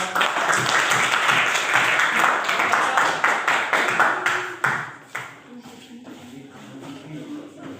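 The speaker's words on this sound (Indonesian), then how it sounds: "tepuk tangan." Classroom students clapping after a group presentation, a lively round of applause with rhythmic claps that trails off midway, followed by shuffling and faint room sounds.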